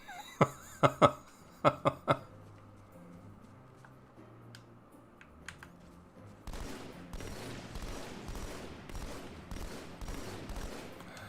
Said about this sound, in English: I shot that dude like 3 times